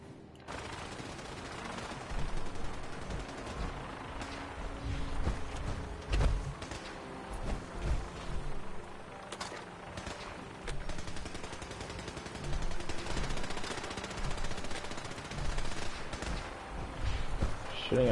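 Gunfire in the video game Wasteland 2, a steady stream of loud bursts and shots in rapid, uneven clusters throughout, with occasional talk over it.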